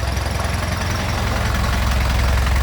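Diesel engine of a Hino FC9J truck, a 175-horsepower model, running at a steady idle with a rough, knocking low rumble that holds close and loud throughout, with no talk over it.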